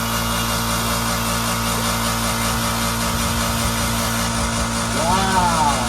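A 1,200-pound tractor's engine runs at a steady idle close by, a constant humming drone with a brief rising whine near the end while someone speaks over it.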